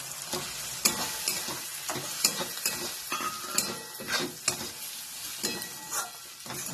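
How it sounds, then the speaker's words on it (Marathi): Semolina roasting in a pan with onion and peanuts for upma, stirred with a spoon: soft sizzling under a run of repeated scraping strokes and light clinks at an uneven rhythm, close and moderately quiet. "रवा याच्यामध्ये चांगला भाजायचा म्हणजे उपीट एकदम उत्कृष्ट होतं"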